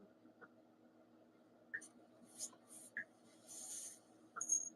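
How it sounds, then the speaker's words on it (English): Faint intermittent tapping and soft scratchy clicks in short bursts over a low room hum, like fingers working a phone screen nearby. "I can hear someone typing on a phone or something."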